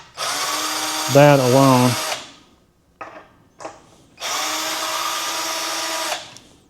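Harbor Freight's cheapest drill bores into a small, thin piece of wooden trim, its loud, steady motor whine running in two long bursts with a short spoken remark and a couple of quiet knocks between them.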